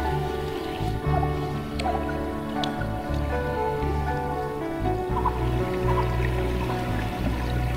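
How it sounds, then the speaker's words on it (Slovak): Water falling at the Nemcovo waterfall in the Starohorské vrchy in winter, with a steady close splashing and dripping rush under a broad, continuous noise bed; no one talks. "Vodopád Nemcovo."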